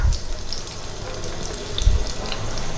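Spicy beef chops fry in hot oil with a continuous loud crackling sizzle, broken by a couple of dull bumps as pieces go into the pan, with no talking.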